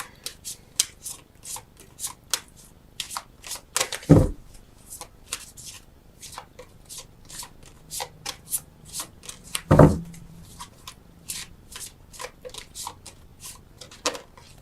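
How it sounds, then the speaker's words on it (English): Tarot cards being shuffled by hand, a continuous series of quick crisp riffles and flicks up close, with two louder thumps along the way. "I'm taking in a lot of information as I shuffle."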